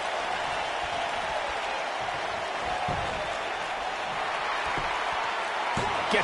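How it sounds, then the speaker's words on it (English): A large crowd roars and cheers continuously, a dense wash of noise with a few thumps underneath. "I don't remember the last time I heard a more passionate crowd than the one we have here tonight."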